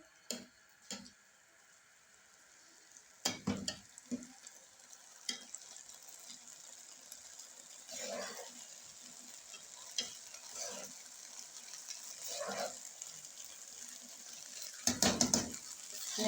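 Mutanjan sweet rice being stirred and mixed in a pot, with scattered scraping and clinking taps of a spoon against the metal over a soft background hiss, heard up close with no talking.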